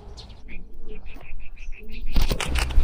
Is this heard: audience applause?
no